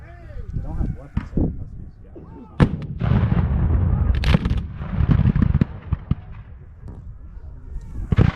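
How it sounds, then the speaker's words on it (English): Artillery fire rendered as a battle sound effect for the Civil War Battle of Prairie Grove, with booming cannon blasts and crackling volleys scattered throughout, heard under a narrating voice. "they come under fire from several Union batteries."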